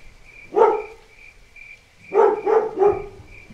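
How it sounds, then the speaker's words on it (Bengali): A dog barking in the distance as a cartoon sound effect for a quiet night scene: one single bark, a pause, then a quick run of three barks over a faint steady hum. "হঠাৎ দূরে একটা কুকুরের আওয়াজ শুনতে পেলাম।"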